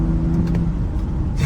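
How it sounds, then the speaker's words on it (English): BMW 335i F30 engine and exhaust pulling under acceleration on cold tires, a steady loud low drone with a rising exhaust note, close and continuous throughout with no talk. "I'll just do a few more pulls for you guys so you can hear the exhaust"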